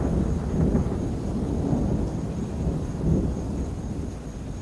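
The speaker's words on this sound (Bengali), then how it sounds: "হঠাৎ বাইরে থেকে বিদ্যুৎ চমকানোর আওয়াজ আর ঝলকানি দেখতে পেলাম।" Thunder rumbles low and heavy with a steady wash of rain behind it, a stormy night backdrop for a Bengali ghost story, rolling in two or three swells over several seconds with no voices.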